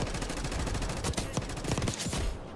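Gunfire in the shooter game Black Ops 6 on the Nuketown map, a dense, continuous rattle of shots with sharper cracks rising above it, ending abruptly.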